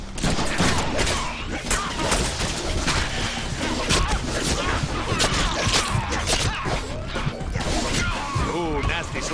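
Dense, rapid gunfire and crashing impacts from the Deadpool video game, loud and continuous, with a voice talking over the action.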